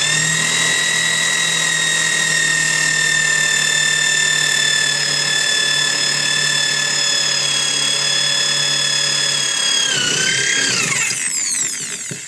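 An all-in-one electric drill machine bores a hole with a loud, steady high whine that holds for about ten seconds, then winds down as the bit slows and stops.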